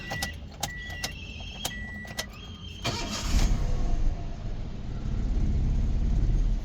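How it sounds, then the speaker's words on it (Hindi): A Toyota Belta car engine cranks after a few clicks, catches and settles into a steady, loud idle close by, with no talking. "ये हमारी गाड़ी अल्हम्दुलिल्लाह स्टार्ट हो गई है।"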